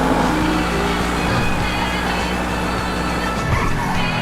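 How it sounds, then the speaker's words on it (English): A McLaren MP4-12C engine in the video game GTA 5, a steady, loud engine drone with a sustained tone that briefly dips and shifts near the end. "MP4-12C may sound like a fax machine, but this car is fast, no doubt about that."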